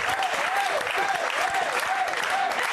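Studio audience applauding a guest's best friend on a French talk show, steady dense clapping throughout with a melodic tone running through it and voices mixed in.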